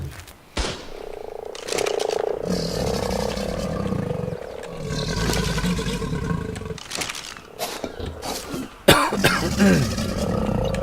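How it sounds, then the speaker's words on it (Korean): Repeated human coughing in short bursts, heard over loud creature roars and other ambient game sounds from ARK Survival Evolved. "자꾸 기침이 나오네요"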